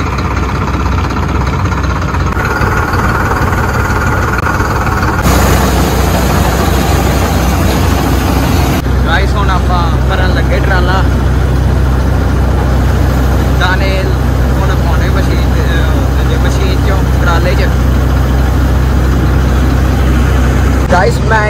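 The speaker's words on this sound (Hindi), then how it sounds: "चलो हुण आप ट्रैक्टर स्टार्ट करते हैं" A farm tractor used in a wheat harvest with a reaper starts up and settles into a steady, loud low-pitched idle that runs throughout, with people talking over the engine.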